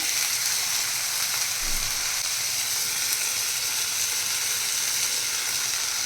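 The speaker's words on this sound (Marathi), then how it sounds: "ती पण आपण याच्यामध्ये छान फ्राय करून घ्यायची आहे" Washed moong dal frying in a pan, giving off a continuous, even hiss and sizzle at close range, with no voices.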